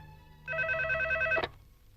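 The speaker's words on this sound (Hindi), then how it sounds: "रिंग हो रही है।" A single short burst of a telephone ringing, a bright electronic trill lasting about a second, then quiet.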